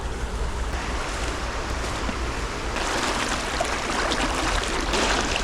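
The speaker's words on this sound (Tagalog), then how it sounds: "Malakas yung agos." Strong floodwater current rushes past in a steady, loud wash of turbulent water noise that thickens slightly partway through, with wind buffeting the microphone and no voices.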